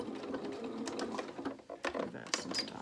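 A sewing machine stitches fabric in quiet bursts of rapid mechanical whirring and ticking, with a faint voice in the background.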